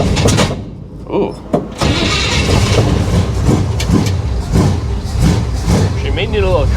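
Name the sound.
car engine starting and idling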